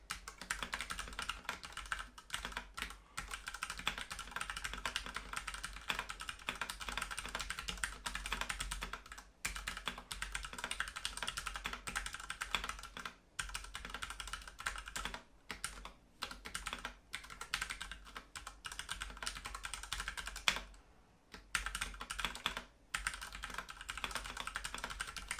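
Quiet, rapid typing on a Ducky One2 Mini keyboard with Cherry MX Red switches, a continuous close patter of soft keystrokes with a few short pauses.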